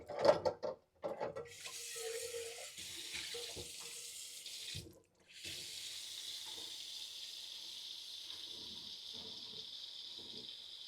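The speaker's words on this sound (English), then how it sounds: "I'm going to add a little bit more water to that pot" Tap water pours into a cooking pot of Jamaican oxtail, beginning after a few brief clanks and knocks and then running as a steady, hissing stream for several seconds.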